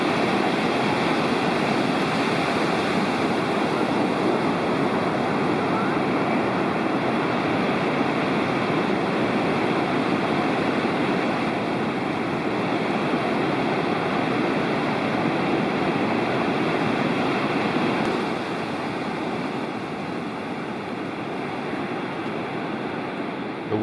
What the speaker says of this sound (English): The waves were a bit larger than usual